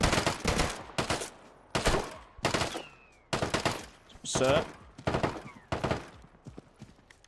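Rapid bursts of automatic gunfire from the survival shooter game Deadside crack out in repeated volleys, loud and close, separated by short gaps, with a brief spoken word between them.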